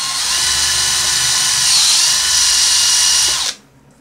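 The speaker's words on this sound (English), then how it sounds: "I'll use like a drill bit on the Dremel, and then I'll just kind of go up and down the line" A Dremel rotary tool with a drill bit carves an artificial taxidermy bird head, giving a loud, steady, high-pitched whine for about three and a half seconds before it abruptly stops.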